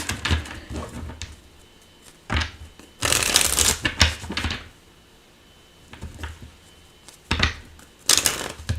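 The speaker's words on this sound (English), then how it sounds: "Last shuffle." Tarot cards are shuffled by hand in several quick, crisp riffling bursts separated by short pauses, close and fairly loud, with no talking.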